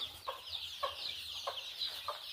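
Chickens cluck in a farm shed on a field, soft repeated clucks about every half second over a constant background of chirping birds, fairly quiet and with no talking.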